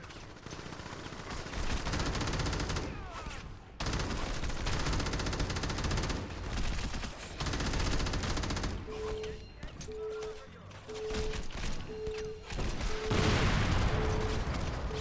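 Game gunfire and explosions in Crackdown, dense bursts of automatic fire and booming blasts layered continuously over a loud rumbling mix, with a steady electronic beeping tone pulsing in the latter half.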